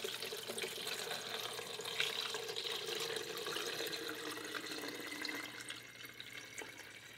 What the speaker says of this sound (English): So I have a little funnel. I'm gonna pour this right in.